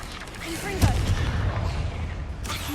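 A Confringo blasting spell explodes in the Hogwarts Legacy video game, a sharp boom followed by rumbling blast noise amid a busy, loud combat soundscape, with a voice shouting spell names over it.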